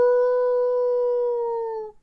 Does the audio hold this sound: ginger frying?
no